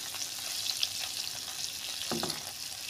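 Homemade paneer fries in a pan with a dense, steady crackling sizzle throughout, close and fairly loud, with a brief scrape of stirring near the end and no voices.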